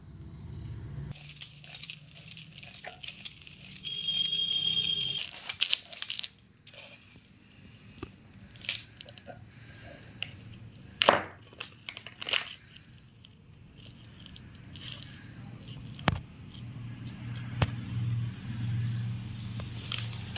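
Softened flattened rice is crushed on a flat grinding stone with a hand stone, making quiet, irregular scraping and squishing strokes with short pauses between them.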